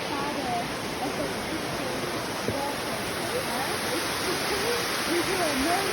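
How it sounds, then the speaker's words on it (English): A waterfall at Jermuk in Armenia, the Mermaid Tail falls, pours in a steady, dense rush of water that holds even and loud throughout, with faint high calls drifting over it. "So the waterfall name is Mermaid Tail. With only water"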